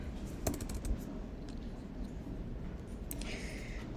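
Fingers tap on a computer keyboard in quiet, irregular bursts of clicks that pause and resume, close by, with no talk.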